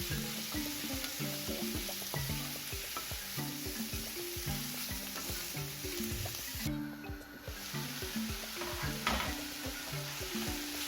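Fish masala with salt stirred in a hot frying pan, a steady close sizzle with repeated rhythmic scraping strokes of the spoon against the pan throughout.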